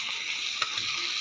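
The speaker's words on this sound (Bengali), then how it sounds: "ভালো করে ভেজে নিলাম।" Fish head frying in oil with ginger, cumin and onion paste: a steady, close hiss of sizzling with a faint soft stir near the middle, no voices.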